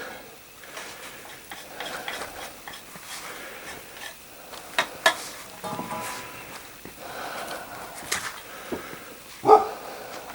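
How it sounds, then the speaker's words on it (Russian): An old dog gives scattered barks and yips amid rustling noise at a remote Yakutian fishing camp, with a louder, sharper bark near the end. "Это старый пес."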